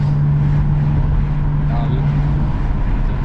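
A 2008 BMW 335xi heard from inside the car, a loud steady engine and exhaust drone with a low hum and road rumble throughout, with no changes in pitch.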